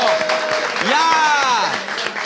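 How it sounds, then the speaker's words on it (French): Audience applause rolls on at a live show while a voice calls out loudly over the clapping, the crowd noise steady and fairly near before easing off at the end. "Il faut applaudir parce que c'est l'onction."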